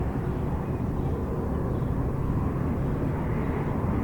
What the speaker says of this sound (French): Parfois, ils volent si bas qu'on peut deviner à quelle compagnie aérienne appartiennent ces avions.